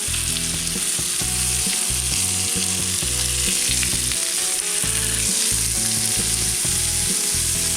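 Onions and split redfish sizzling loudly in a hot pan, a dense continuous frying hiss with occasional stirring, close up and with no talk.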